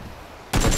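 Gunfire in the video game PUBG Battlegrounds erupts suddenly after half a second of near quiet: a loud, dense burst of rapid shots that fills the rest of the moment.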